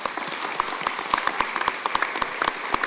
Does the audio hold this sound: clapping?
yes